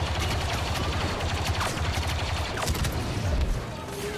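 Sustained rapid gunfire from a Gatling gun in the Star Wars Battlefront II video game, loud and continuous, layered with other battlefield shots and effects throughout.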